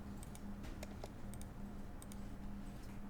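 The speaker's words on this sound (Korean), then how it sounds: "그냥 스페이스바를 눌렀을 뿐입니다" Computer keyboard keys, including the spacebar, tapped while drafting in AutoCAD: a quiet, uneven run of light plastic clicks, some in quick pairs, over a low steady hum.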